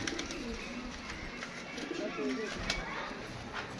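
Pigeons coo softly and repeatedly against a steady background hum, with people talking nearby.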